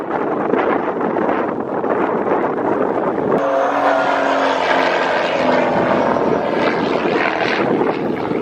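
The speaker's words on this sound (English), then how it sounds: "Beautiful knife edge pass there." Propeller aircraft flying a knife edge pass at an air show, a loud continuous engine roar that swells and shifts pitch midway as it passes close, with crowd-area ambience beneath.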